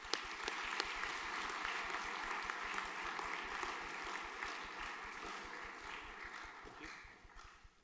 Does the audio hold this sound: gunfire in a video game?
no